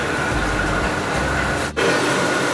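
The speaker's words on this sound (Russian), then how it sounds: "А вот и наш поезд." Small five-carriage train at a station in Bangkok, Thailand, a steady close rumble of rolling wagons with a brief dip in the noise partway through and no talk.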